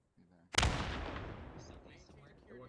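A grenade bursts in Post Scriptum, a single loud blast that rings out and fades over two seconds, with faint voices and small battlefield noises around it.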